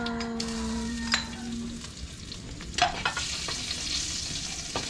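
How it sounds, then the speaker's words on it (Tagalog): Rice frying in a hot pan for Filipino garlic fried rice (sinangag), a steady close sizzle broken by several sharp stirring scrapes of the utensil against the pan. "ang ating niluto po today, magsasangag tayo"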